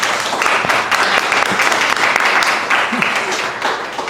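Audience applause for a speaker at an academic talk, steady dense clapping throughout at close range, filling the room without a break.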